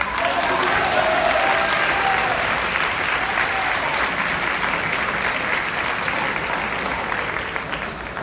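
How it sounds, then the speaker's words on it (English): Sustained applause from a large audience at a school sports banquet, dense and steady clapping that stays loud throughout and tapers slightly at the end. "Can we please give another round of applause for the junior boys soccer team?"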